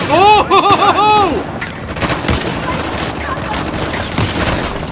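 Rapid gunfire rattles in Uncharted: The Lost Legacy, a dense burst of repeated shots lasting several seconds after a short wavering tonal sound, loud and close.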